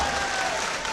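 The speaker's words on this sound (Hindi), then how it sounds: "एक बार तालियां बजाकर मुझे इजाज़त दे" Audience clapping at a shayari poetry recital, a brief burst of dense, steady applause from the crowd.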